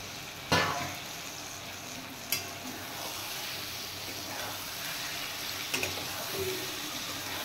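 Fried eggplant pieces added to masala in a pan, a sharp clunk and a softer knock against a steady hiss of frying, then faint stirring scrapes, fairly close and quiet.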